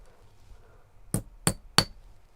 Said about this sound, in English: I've taken the flat part of the ball peen and go back and forth,